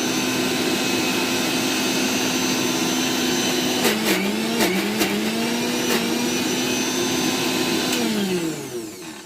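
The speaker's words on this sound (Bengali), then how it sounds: "আমি মিক্সিতে আরও একবার একটু পেস্টটাকে ঘুরিয়ে নেব, জাস্ট কাঁচা লঙ্কাটা দিয়ে" A mixer grinder whirs loudly and steadily as it blends green chili into a prawn paste, its motor pitch wavering slightly before spinning down and stopping near the end.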